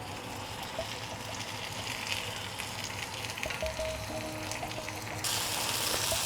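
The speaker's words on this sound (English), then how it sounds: "when it sounds sizzling, like it's sizzling rather than simmering, that's the time to add more of the broth" Spaghetti sizzles and fries in a pan with a little broth, a steady crackling hiss that grows somewhat louder toward the end, with no talk.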